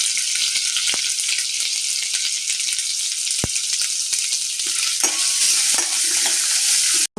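Mustard seeds, cumin, curry leaves, ginger-garlic paste and grated coconut sizzle loudly in hot oil for a brinjal bhaji. The hiss is dense and continuous, with a faint stirring clink, and nobody speaks.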